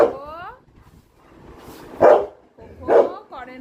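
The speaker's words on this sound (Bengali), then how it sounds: "তুমি কাউকে দেখে ঘেউ ঘেউ ঘেউ ঘেউ করছো।" A pet Labrador barks in short loud bursts, two sharp barks about a second apart, while someone talks around them in a playful, scolding tone.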